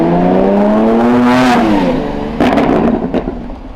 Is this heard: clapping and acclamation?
no